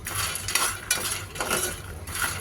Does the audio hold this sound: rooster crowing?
no